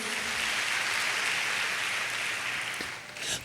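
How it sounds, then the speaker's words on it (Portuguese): Church congregation applause for Jesus during a sermon, a steady, moderately faint wash of clapping that holds evenly, then dips briefly before a short swell near the end. "pode dar uma salva de palmas para Jesus"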